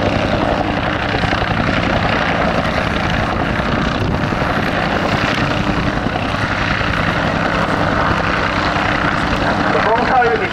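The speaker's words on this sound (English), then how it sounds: "the Loach and Huey are doing their very best to support our friendly ground troops" A Loach and a Huey helicopter fly a close-support combat display at the Cosford air show, and their loud, continuous rotor and engine roar fills the entire clip, with an announcer talking over it.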